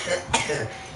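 A single short cough, close and fairly loud, with a brief throat-clearing quality.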